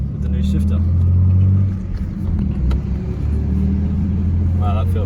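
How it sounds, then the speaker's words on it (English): A manual Ford EF Falcon fitted with a new short shifter drives on a test drive, its engine a steady close rumble with shifts in load; a person talks over it. "we're just going for our first test drive with the new shifter"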